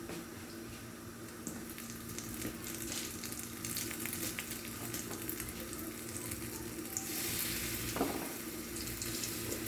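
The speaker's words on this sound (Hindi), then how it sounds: "1 मिनट हम इसको इसी तरह पकाएंगे और उसके बाद इसको उल्टेंगे" A keema and egg paratha cooks on a pan, giving off a steady, close hiss of frying with faint crackle, holding evenly before a brief louder spit near the end.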